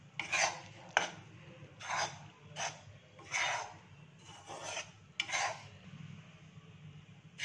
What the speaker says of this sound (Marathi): ते चांगलं आपल्याला खरपूस भाजून घ्यायचे बेसन पीठ मंद आचेवरती, म्हणून मी जाड अशी कढई घेतली आहे